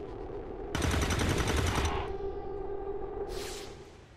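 Sustained burst of automatic gunfire in the turn-based tactics game XCOM 2, a loud, dense volley lasting over a second, followed by a rumbling echo and a brief second crack-like burst.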